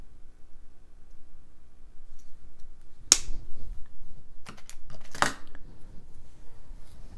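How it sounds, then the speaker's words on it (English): Wire cutters snipping the excess off a metal jewelry head pin, several sharp, close clicks spaced over a few seconds against a quiet background. "I'll snip off the unneeded portion."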